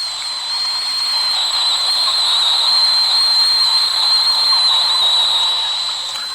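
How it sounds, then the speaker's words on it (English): Steady high-pitched whistle of air being drawn in through an opened drain valve on a DIY wooden pressure-washing skid tank as water flows out, continuous and fairly loud for the whole stretch. "That whistling sound is the air being sucked in as I've opened the valve to let water flow out to test this thing"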